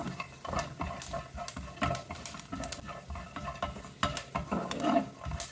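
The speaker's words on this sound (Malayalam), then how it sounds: "നല്ലോണം ഇളക്കി തന്നെ അത് വറുത്തെടുക്കണം. ബദാമൊക്കെ നന്നായിട്ടൊന്ന് റോസ്റ്റാക്കി എടുക്കണം." Almonds and vermicelli being stirred and roasted in a pan for a crispy sweet dish, with busy scraping and rattling of the spoon against the pan over a light sizzle, continuous and close.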